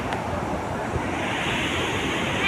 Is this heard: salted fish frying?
no